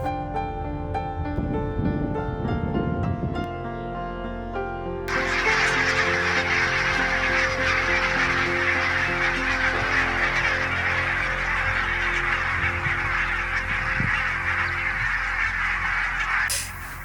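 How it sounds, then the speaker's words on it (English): Large flock of geese bursting into flight close behind, loud continuous honking over a dense roar of wingbeats and calls that swells and holds, with earlier scattered honks before the takeoff. "It was like an explosion of birds right behind me."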